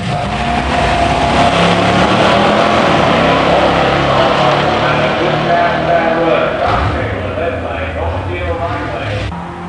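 A 1970 Buick Grand Sport 455 automatic and a 1971 Grand Sport automatic run down a drag strip, a loud sustained engine roar with crowd noise while an announcer talks over it.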